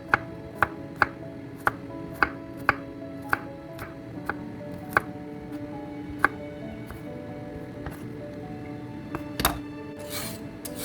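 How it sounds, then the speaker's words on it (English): Garlic cloves chopped with a knife on a board for an Escovitch sauce, a steady run of about a dozen crisp, close knocks spaced roughly half a second apart, with a faint scrape and shuffle near the end. "when you chop the garlic, you get more flavor from it"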